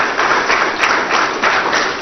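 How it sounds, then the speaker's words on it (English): An audience at a foreign direct investment speaker series event applauds the President, a dense, even burst of clapping lasting about two seconds. "please, a big round of applause for Mr. President."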